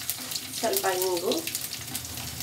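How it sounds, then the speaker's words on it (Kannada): Ginger, garlic and asafoetida fry in a pan with a steady, soft sizzle throughout, while a voice or tonal sound briefly rises over it in the middle. "ಚೆನ್ನಾಗಿ ಫ್ರೈ ಮಾಡ್ತೇವೆ"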